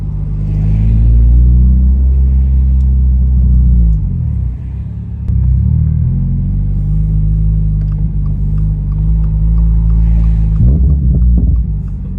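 Exhaust of a Subaru BRZ / Toyota GR86 with rear seats removed, heard from inside as a loud, steady low rumble with a brief dip midway; distinct pops are not clearly separable from the drone.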